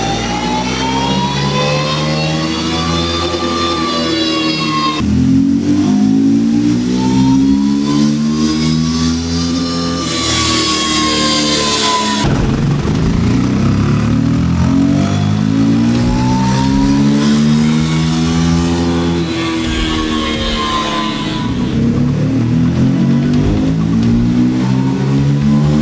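A KTM 390 Duke motorcycle engine revs hard on a dyno through repeated loud, sustained pulls, each climbing in pitch, then dropping and climbing again, close and continuous with no talking.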